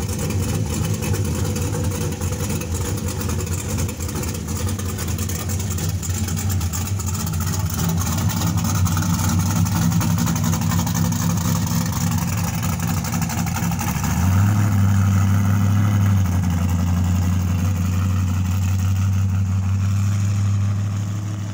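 A 1989 Ford Mustang LX with a V8 engine idles nearby, a steady throbbing low rumble that deepens and grows louder about two-thirds of the way through, with no voices.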